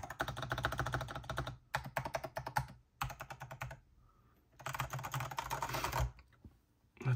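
A Melgeek Pixel keyboard with tactile, non-clicky Pixel T switches is typed on in quick close bursts of soft keystrokes, broken by short pauses, with no talking.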